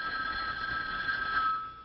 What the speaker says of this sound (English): But I believe this is the telephone.